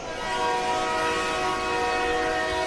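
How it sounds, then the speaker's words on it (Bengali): Loud sustained train horn as a train pulls away, a single long tonal blast held close and strong over rumbling rail noise, no voices. "ট্রেন বিকট শব্দে একবার হর্ন দিয়েই চলতে শুরু করল।"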